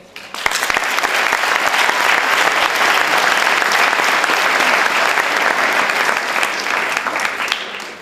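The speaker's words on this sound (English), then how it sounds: "I'd like to request a round of applause for our teachers, form tutors, and leadership team" A graduation audience gives a long, loud round of applause for the teachers, form tutors and leadership team, the dense clapping sustained evenly from start to finish.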